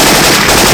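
A short, dense burst of rapid rifle fire from Left 4 Dead 2 with a Syphon Filter weapon sound mod, loud and close, the shots packed into a continuous crackling roar.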